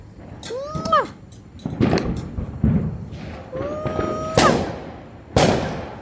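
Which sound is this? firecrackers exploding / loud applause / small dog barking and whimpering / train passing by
firecrackers exploding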